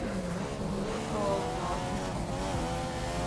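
A Formula 1 race car in the video game F1 2015 accelerates with a steady, high-pitched engine whine that climbs through the revs. The engine runs continuously throughout with no pauses.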